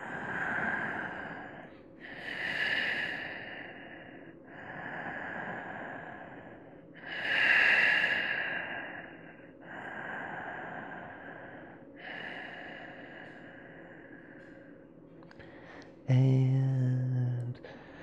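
Slow, deep yoga breathing held in bridge pose: long audible inhales and exhales in a steady rhythm, several full cycles close and clear, ending with a louder breathy release.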